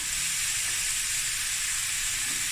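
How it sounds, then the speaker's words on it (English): Sausage fries in a pan for fried rice, giving a steady, continuous hiss and sizzle at an even loudness throughout, with no talking. "now we're going to let this fry"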